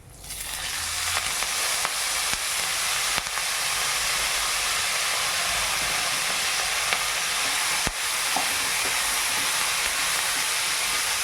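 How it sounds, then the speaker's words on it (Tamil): Curry leaves fry in hot oil with reddened urad dal and a pinch of asafoetida for a curry-leaf thuvaiyal, a steady, loud, close sizzle and hiss that runs unbroken throughout with no voices. "கருவேப்பிலையை ரொம்ப வறுக்கக்கூடாது ஒரு பாதி அளவு தான் அதை வதக்கணும்"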